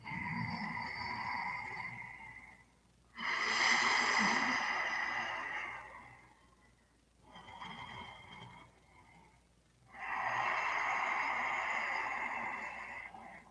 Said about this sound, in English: Full breath in.